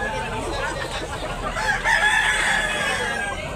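A rooster crows over a busy, noisy background with a steady murmur of voices and market chatter at a live chicken market in Tabunok, Talisay, Cebu.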